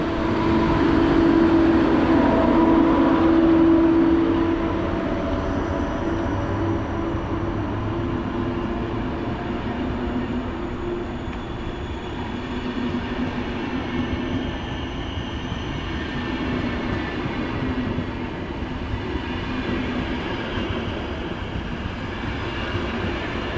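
A passenger train with extra carriages rolls through Warszawa Wschodnia station with a loud rumble and rhythmic clatter of wheels over rail joints. An early whine fades as the carriages continue steadily by.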